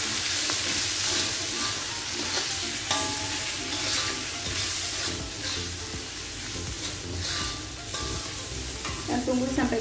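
Vegetables and carrots fry loudly in a wok with oyster sauce and chili sauce for fried lontong sayur, a constant close sizzle broken by repeated scraping stirs of the spatula.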